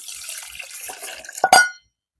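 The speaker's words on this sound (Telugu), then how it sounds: "నీళ్లు పోసుకుందాం." Water poured into freshly ground dal while making Telugu-style pappucharu, a short close splash and trickle lasting under a second, with quiet kitchen handling just before it and silence after.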